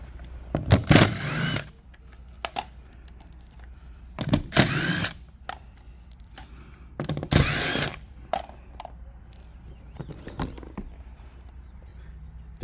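A power tool drives out the side cover screws on a tri-fuel inverter generator in three loud close bursts of whirring and ratcheting, separated by quieter gaps with faint clicks.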